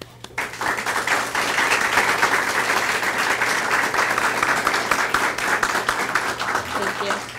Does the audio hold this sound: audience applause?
yes